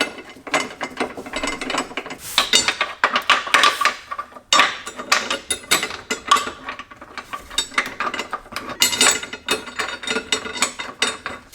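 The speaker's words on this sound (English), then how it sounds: "this right here, the Milwaukee impact ratchet, or not, well, impact ratchet or ratchet, super fucking handy." A Milwaukee impact ratchet works on bolts during a car hood and subframe install, giving bursts of rapid mechanical clicking and rattling, close and loud, with short pauses between runs and no voices.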